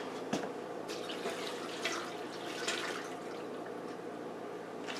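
Eight ounces of water pour into a Power Pressure Cooker XL filled with mixed vegetables and linguica sausage for stew, making a soft, steady splashing trickle with a few small drips and bumps.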